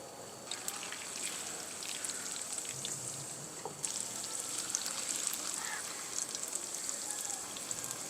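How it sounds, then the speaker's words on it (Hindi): Chapli kababs sizzle in hot oil in a village kitchen, a steady crackling hiss with scattered pops throughout, fairly soft and without talk. "साथ साथ हम इसको बनाते जाएंगे, साथ साथ इनको फ्राई भी करते जाएंगे।"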